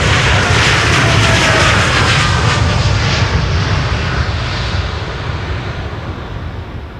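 A TUI Boeing 787 Dreamliner takes off from Schiphol's Polderbaan runway, its jet engines a loud, broad roar that slowly eases as it climbs away, with no voices.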